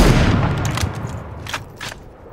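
Gunfire in the Super People battle royale game, a loud blast followed by a few sharper, more distant shots spaced out over the next two seconds.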